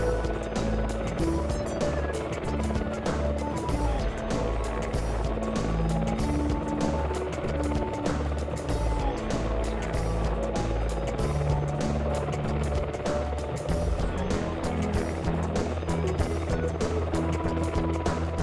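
An RAF Merlin helicopter flying in a military air display, a steady loud rotor and turbine roar that holds unbroken throughout with no pauses, heard from outdoors at a distance.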